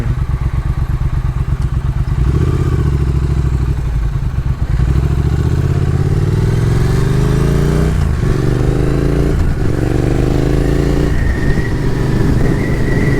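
Motorcycle engine on a winter ride in Florida, loud and close, revving up through the gears with short shifts and repeated quick drops in pitch, no talking.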